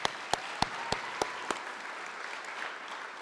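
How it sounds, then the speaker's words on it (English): Applause from the audience at a Hall of Fame induction ceremony, beginning with several sharp, loud claps in the first second and a half, then thinning into a softer, sustained patter. "So please give a round of applause to Dave Simmons, who's not here."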